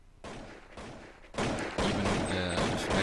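Gunfire in Counter-Strike on the de_dust2 map comes as sharp bursts of rifle shots, a short volley followed by louder repeated fire, close and unaccompanied by speech.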